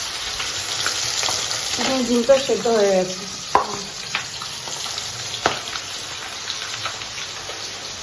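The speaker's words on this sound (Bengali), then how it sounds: "আর চচ্চড়িটা আর আলু কাটাগুলো ভাজা হচ্ছে" Chopped potatoes and chachchari sizzle and fry in a pan with a steady close hiss, broken by occasional stirring scrapes and clinks, while someone speaks briefly over the cooking.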